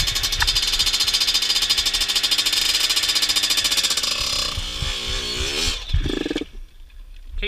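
Small dirt bike engines, a Yamaha YZ85 and a Kawasaki KX65, buzz loudly close by with a steady high-revving drone, then shift and fade as the bikes ride off, leaving a quieter tail.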